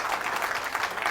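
Brief burst of church congregation applause during a sermon, a soft, dense patter of many hands clapping at a distance, without talk.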